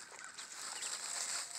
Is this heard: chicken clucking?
yes